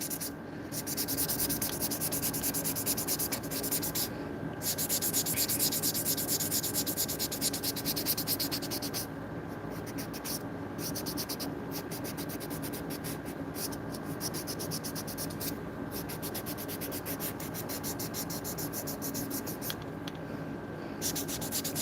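Nails being buffed with a nail buffer during an ocean-themed acrylic manicure: continuous close scratchy rubbing strokes, steady and fairly loud, with brief pauses, no talking.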